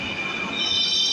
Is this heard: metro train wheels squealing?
yes